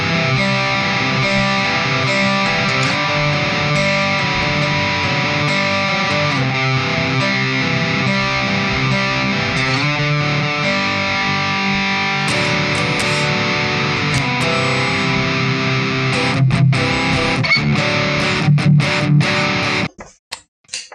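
A distorted electric guitar played through the Deplike mobile amp simulator app on iOS using a stock free amp, with loud, continuous riffing for about twenty seconds before stopping abruptly, followed by a few sharp plucks.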